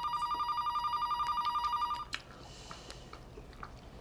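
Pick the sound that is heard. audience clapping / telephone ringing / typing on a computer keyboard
telephone ringing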